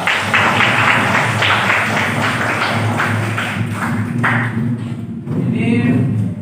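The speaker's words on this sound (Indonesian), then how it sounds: "Tepuk tangan untuk kelompok 2." Students in a classroom clap for group 2, a loud, dense patter of hands that runs steadily and begins to thin and break apart near the end.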